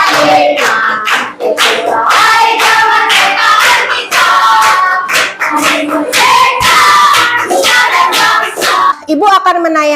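A school audience of children claps along to a song they are singing, steady rhythmic hand claps mixed with loud group singing and shouts throughout.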